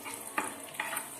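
Red chillies frying in hot oil for a tomato sambar, a steady close sizzle with a few brief scraping stirs of a spoon through the pan.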